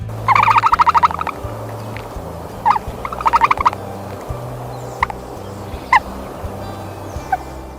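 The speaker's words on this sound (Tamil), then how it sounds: "ஆப்பிரிக்காவை நேட்டிவா கொண்ட ஒரு பறக்க தெரியாத பறவையினம் தான் இந்த ஆஸ்ட்ரிச்ங்கிற நெருப்புக்கோழி" Ostrich calls: a rapid burst of harsh, rattling gobble-like notes, then a second shorter burst and several single clucks, heard clearly over a steady low hum.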